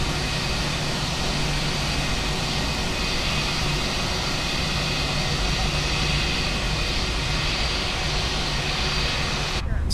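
Steady jet engine roar from a Fenix A321 airliner on its takeoff roll in the MSFS flight simulator, a loud, constant broadband rumble and whine held evenly throughout.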